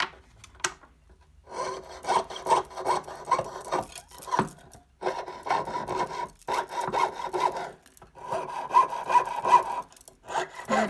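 A jeweler's piercing saw cuts with wax on the blade, giving rhythmic rasping up-and-down strokes in bursts separated by short pauses, close and alone.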